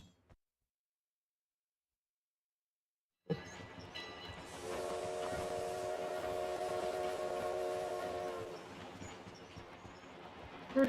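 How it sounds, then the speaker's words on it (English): A moving train in the battle royale game PUBG Mobile rumbles after a silent start, with a sustained whistle-like horn tone in the middle, heard steadily and fairly loud. "We're on the moving train now."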